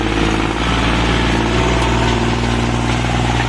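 A used Kubota three-cylinder tractor engine runs steadily at close range, a loud, constant chugging drone with a low, even throb and no pauses or voices.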